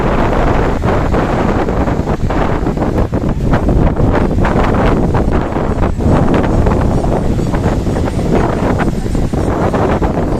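Strong gusty wind rushes across Marina Beach in Chennai, a loud unbroken roar with buffeting bursts, surf blending in underneath and no one talking.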